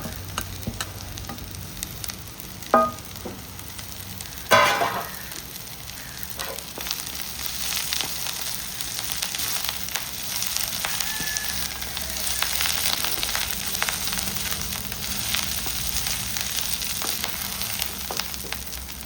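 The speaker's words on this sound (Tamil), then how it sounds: "எல்லாமே தாளித்து வதங்குறது" Shallots and drumstick leaves sauté in a pan with a steady crackling sizzle throughout, broken early by a couple of sharp clanks from stirring, with no voices.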